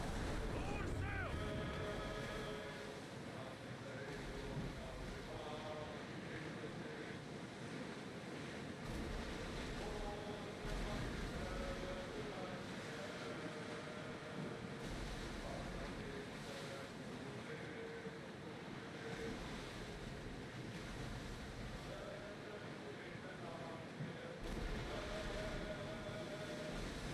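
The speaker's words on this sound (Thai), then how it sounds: "โอ้คลื่นลมมันสูงนะ" Rough seas and gusting wind in Assassin's Creed Odyssey, a dense, steady roar of waves and wind under a sailing ship that holds at the same level throughout.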